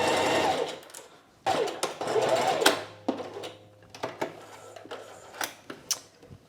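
A sewing machine stitches an invisible zipper seam in a steady mechanical whir that pauses and restarts, ending in scattered clicks and taps, with no voices.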